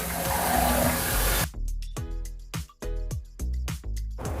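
Water rushes into a toilet tank as the supply is turned back on: a loud, steady hiss for about a second and a half that cuts off abruptly, followed by a series of sharp, evenly spaced taps and knocks.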